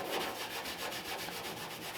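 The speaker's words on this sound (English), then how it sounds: "I've been going back with a dry rag, a dry part of the scuff pad, and just kind of like bring it together" A dry rag and scuff pad rub back and forth over a painted panel of a 1932 Ford Roadster being patina-blended, in quiet, even, rhythmic strokes close to the microphone.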